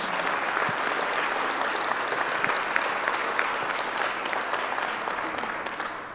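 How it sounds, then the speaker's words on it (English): A room full of people applauds the co-hosts of a housing-focused candidate forum in Central Indiana, producing dense, even clapping that holds steady throughout and fades slightly at the end. "Please give our co-hosts a round of applause."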